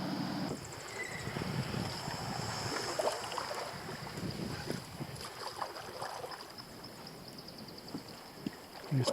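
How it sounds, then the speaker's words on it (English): Canoe paddling on a remote lake in Northwest Ontario: soft intermittent paddle strokes and water splashes close by, with wind buffeting the microphone and faint outdoor ambience, no talking. "Just paddle through the first little channel."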